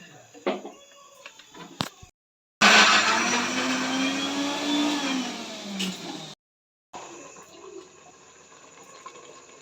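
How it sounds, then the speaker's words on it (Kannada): A kitchen mixer grinder blends coconut with sambar powder for a bamboo-shoot sambar, its loud, steady whirring burst lasting about four seconds, framed by short silences and quieter handling sounds before and after. "ತೆಂಗಿನಕಾಯಿ ಒಂದು ಅಷ್ಟೇ. ಇದನ್ನು ರುಬ್ಕೊಳ್ಳೋಣ."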